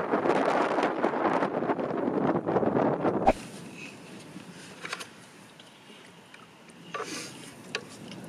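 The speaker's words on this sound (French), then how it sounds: "Tellement de vent, c'est truc de dingue." Heavy winter wind in Lozère, France buffets the microphone in loud rumbling gusts for a few seconds, then drops to a quieter breezy hiss with occasional light knocks.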